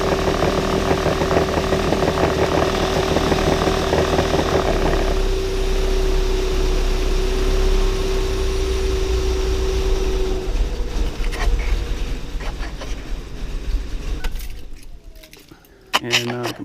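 Car engine idling steadily with a constant hum, then faltering and dying out near the end after the fuel pump fuse is pulled, leaving a few clicks and near silence.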